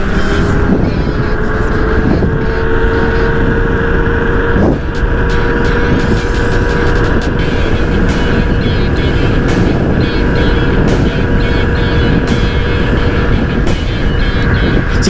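An Emperor Drift electric scooter ridden at half throttle, giving a steady, loud motor whine with rushing wind noise that holds continuously throughout.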